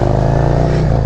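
A 2023 Harley-Davidson Road Glide with a Screamin' Eagle Stage 3 119 engine rumbles loud and close while riding, giving a deep, steady low-end drone that holds without break.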